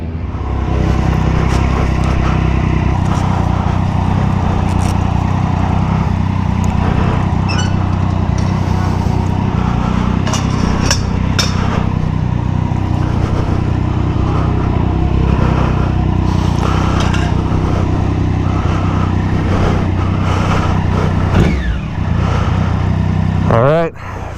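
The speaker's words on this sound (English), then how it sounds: "on the new, to me, 2013 Daytona 675R race bike" A 2013 Triumph Daytona 675R race motorcycle being ridden, its engine droning steadily and loudly throughout with occasional rises in revs, heard under a person talking.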